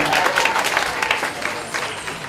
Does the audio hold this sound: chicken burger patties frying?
no